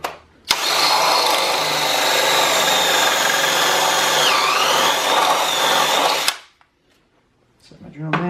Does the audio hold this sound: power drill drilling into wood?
yes